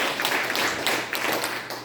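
Audience clapping in response at a patriotic groups' federation launch ceremony, a short burst of dense applause from a crowd, fairly steady with slight swells.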